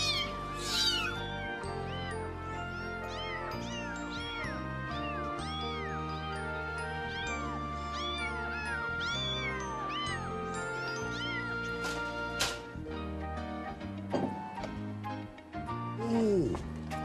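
Repeated cat meows ring out over a bouncy musical backing, several in a row, with a few bright jingles and dings mixed in.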